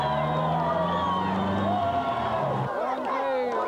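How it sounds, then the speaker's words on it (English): A dense street crowd of Albanians jeering and shouting chants of UCK and NATO at retreating Yugoslav soldiers in 1999 Podujeva, loud and continuous with overlapping voices and whoops. "the Yugoslavs retreated amidst jeers from the crowd and shouts of UCK, UCK, and NATO"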